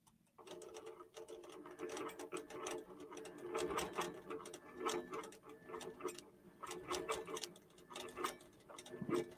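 A QBOT V3 computerized quilting machine stitches lines across a quilt, its needle rattling in a quick, even, ticking rhythm that continues throughout at moderate volume.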